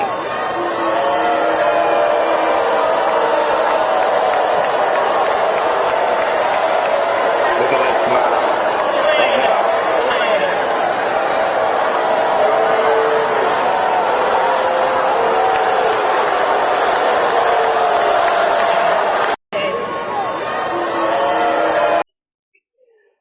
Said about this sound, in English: That has got to be embarrassing to be booed by half a stadium of people